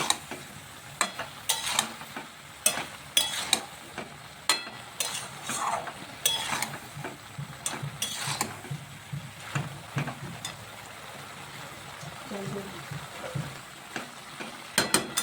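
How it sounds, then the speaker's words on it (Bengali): Water lily stems and potatoes, salted, are stirred and sautéed in a pan, with a steady series of sharp spatula scrapes and clicks over a soft, continuous sizzle, close up with no talking. "এখন ভালোভাবে আর একটু কষিয়ে নিচ্ছি, লবণটা যাতে সব শাপলার মধ্যে লেগে যায়।"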